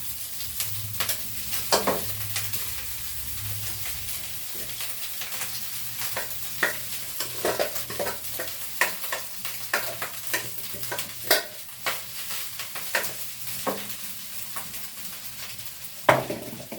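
Cooked rice stir-fried into sinangag in a pan, with a steady sizzle and frequent scraping clicks and taps from the spatula against the metal. The stirring runs in an uneven rhythm, close and fairly loud.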